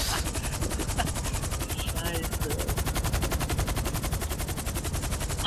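Rapid automatic gunfire from the video game GTA V Online, loud and sustained in a continuous rattling stream, with a faint explosion-like burst near the end.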